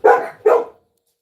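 A big dog gives two sharp barks in quick succession, close and loud, then falls silent.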